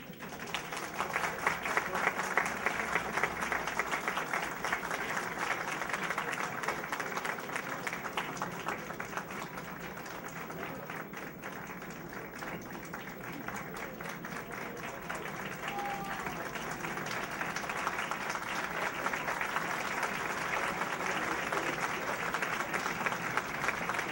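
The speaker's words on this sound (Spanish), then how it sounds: "Importante el aplauso para el coro madrigalista" Steady, sustained applause from a large audience honoring a madrigal choir at a ceremony marking an institute's 125th anniversary, dense and even throughout with no break.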